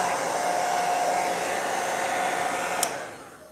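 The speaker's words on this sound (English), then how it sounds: "Nothing like having your hair dryer in the craft room." A hair dryer blows close and loud in a craft room, drying paint on a thrift store lamp, a steady whooshing roar with a faint whine, a small click near the end before it winds down.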